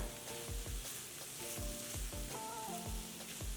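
Drumstick masala curry sizzles gently in a pan while a spoon stirs it, giving soft, rhythmic scraping strokes over a steady, faint frying hiss.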